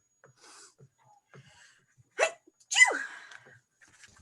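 A single sharp sneeze bursts out in a quiet classroom, followed by a second louder sneeze-like burst, with faint breathing and room noise around them.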